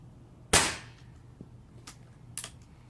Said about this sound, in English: So I'm just gonna do 3 shots into the gel